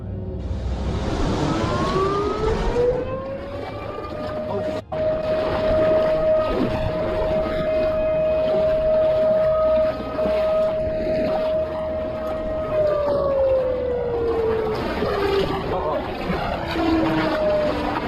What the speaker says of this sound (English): the fishing trip was suddenly interrupted by a loud, blaring noise. A siren.